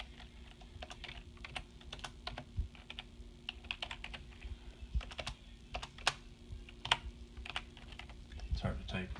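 Someone types one-handed on a computer keyboard, producing irregular, sparse clicks and taps at close range over a low room hum, with a few louder keystrokes near the end.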